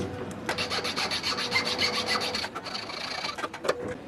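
Steady rasping strokes against wood as a wooden fishing lure's profile is rounded off, a rhythmic scraping series at close range with brief pauses between passes.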